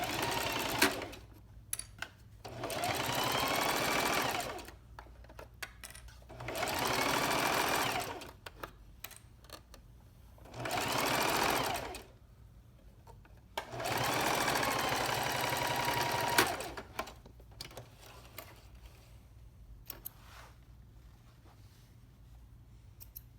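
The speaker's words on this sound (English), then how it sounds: "I'm just going to sew this up" A sewing machine stitching closed the gap in a garment lining runs in four separate bursts of steady whirring, each a few seconds long, with quiet handling noises between them.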